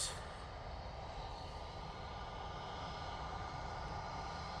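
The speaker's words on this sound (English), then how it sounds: "Easyjet A320neo now coming on in front of us." An EasyJet Airbus A320neo at Manchester Airport gives off a faint, distant, steady jet rumble that keeps an even level for a few seconds.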